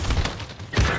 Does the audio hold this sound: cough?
no